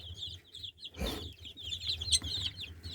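Chicks eating worms, a busy run of close, high peeping and soft clucks, with a brief rustle or scuffle in the middle and a low hum underneath.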